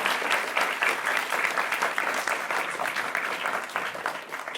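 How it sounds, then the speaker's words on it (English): An audience at a talk about bushfire risk in the Colac-Otway region claps in steady, moderately loud applause that carries through the full few seconds without voices. "So can I get a round of applause for both those two and filmmaker?"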